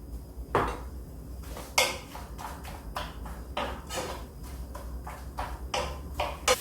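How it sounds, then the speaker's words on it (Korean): Onions being stir-fried with a pinch of salt in a pan for Korean rice-cake japchae: a dozen or so quiet, irregular clinks and scrapes of a utensil against the pan, with no talking. "여기 양파 먼저 볶아주세요. 소금 약간만, 한 꼬집만 이렇게 해서."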